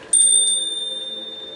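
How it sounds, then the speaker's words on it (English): A bell or chime kept by a doorway, rung for spiritual cleansing, gives one bright clear strike with a second quick tap, then a long shimmering ring that slowly fades with a gentle pulsing wobble, close and alone. "You got to take into consideration chimes and bells and stuff that are kept by entrances and doorways."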